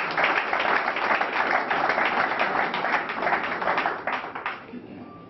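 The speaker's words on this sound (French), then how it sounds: "Je crois qu'il y a lieu de féliciter à travers vos applaudissements cette initiative" Crowd applause at a political rally meeting in the Congo, dense sustained clapping from a large gathering that fades toward the end.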